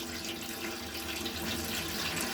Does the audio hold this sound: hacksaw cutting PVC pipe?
no